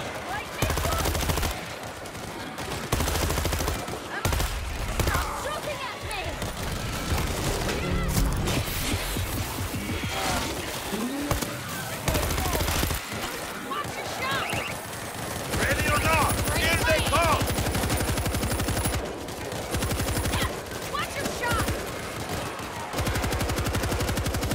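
Auto turret gunfire in World War Z Aftermath during a Rome last-stand battle, long stretches of rapid automatic bursts mixed with crashes and impacts, with game voices calling out over the shooting.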